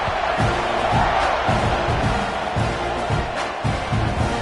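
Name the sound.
stadium crowd cheering at American football game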